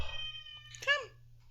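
A house cat meows near its feeding time, a drawn-out tonal call followed by a louder, rising meow, close and clear over a low steady hum.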